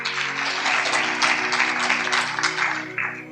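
Applause from a congregation at a church sermon, a steady dense wash of clapping that holds for about three seconds and then tapers off.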